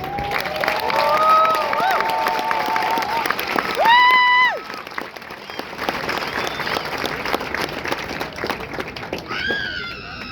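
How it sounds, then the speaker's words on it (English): A crowd applauds steadily through a 2023 graduation ceremony for company staff, with scattered cheers and whistle-like tones cutting in over the clapping. "please join me in a round of applause for the company staff of Company H"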